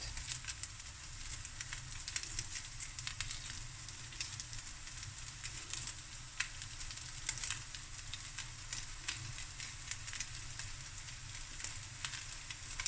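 Rice with nigella and roasted seaweed stir-fries in a pan, a faint, steady sizzle with occasional light scraping ticks, close and low in level.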